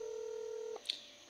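A telephone being dialed: a steady tone cuts off, followed by a brief high electronic dialing beep, faint and close, with no talk.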